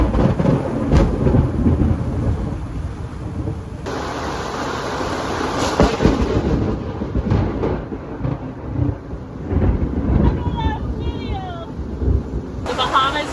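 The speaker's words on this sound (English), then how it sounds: "the lightning storms are wild" Thunder from a lightning storm during hurricane season in the Bahamas, heard aboard a sailing boat: heavy rolling rumbles and sharp cracks over steady rain, loud and close, with occasional voices.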